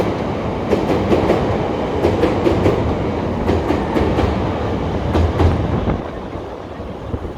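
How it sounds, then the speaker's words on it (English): An elevated train rumbles past on a downtown Chicago street with loud, rhythmic clickety-clack of wheels over rail joints, a dense continuous roar that eases slightly toward the end. "and then you hear another train."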